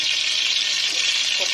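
Two tablespoons of coconut oil sizzle in a hot pan on the stove for chicken thoran, a steady, bright hiss that holds evenly throughout.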